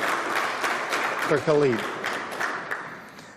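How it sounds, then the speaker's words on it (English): Applause from an audience at a finance minister's press event, moderate clapping that tapers off while a voice speaks briefly over it. "A big round of applause for"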